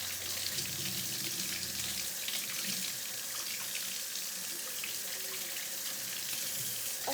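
Warm water runs steadily from a tap into a sink, a continuous close splashing hiss with no pauses and no one talking over it.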